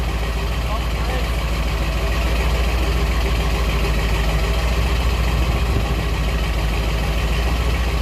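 Ford Excursion truck engine idling close by with a steady, even low rumble throughout, unchanging in pitch or level.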